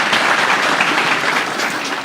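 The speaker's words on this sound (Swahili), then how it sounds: "CPA Ruto kutoka Keses, mjumbe wa Keses, tumpigie makofi." A crowd applauds at a high school gathering in Kapsabet, Kenya, during a condolence event with dignitaries, making a dense, steady roar of clapping that fills the whole stretch.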